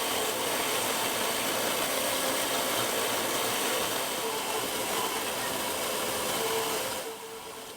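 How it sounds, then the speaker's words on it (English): A belt sander roughs the shape of a wooden saw handle, giving a steady loud continuous grinding whir throughout that eases off slightly near the end, with no talk. "I'm just rough sanding the shape"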